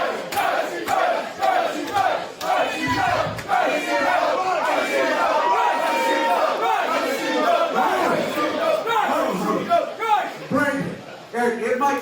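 A video game crowd roars and cheers at a deathmatch between team captains, a dense, continuous wall of voices and battle cries that holds steady for the whole stretch with only brief dips.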